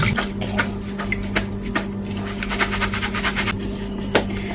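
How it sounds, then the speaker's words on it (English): Cold tap water runs steadily into a sink, rinsing freshly cooked Indomie noodles in a home kitchen, a continuous splashing stream with small irregular spatters and clinks, close and alone without talk. "And then I'm going to go in with cold water and then I'll rinse it up so that it doesn't stick together."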